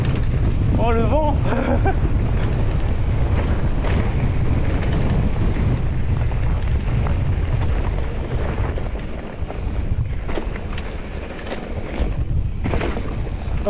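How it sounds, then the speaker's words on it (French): Strong wind roars and buffets the microphone throughout a fast mountain bike enduro descent on a narrow trail, filmed on a GoPro, with continuous loud rushing noise and rattling over the ride. "Oh le vent."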